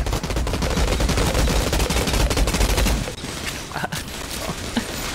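Sustained rapid automatic gunfire in the shooter game Outriders, a dense, loud burst lasting about three seconds before cutting off into quieter scattered clanks and shots.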